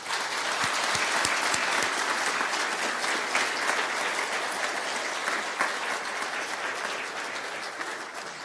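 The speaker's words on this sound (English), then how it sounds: "could we please have a wonderful round of applause for everyone that I've introduced" An audience at an announcement event in Thunder Bay breaks into a long, even round of clapping, full and steady throughout with a few sharper individual claps early on.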